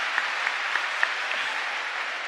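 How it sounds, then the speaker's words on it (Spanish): Steady applause from a church congregation during a live parish service for husbands, dense and sustained with a few sharper claps standing out, no talk over it. "Un fuerte aplauso para todos los esposos."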